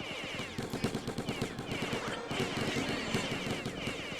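Rapid gunfire in the Mr Fast shooting-gallery video game, a dense rattling burst of repeated shots close and loud, steady throughout with faint background sound.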